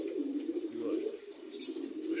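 Domestic pigeons coo softly and steadily at close range, a low murmuring call that carries on throughout while a voice is faintly present.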